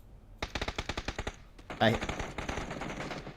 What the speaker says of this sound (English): hear some gunshots going off.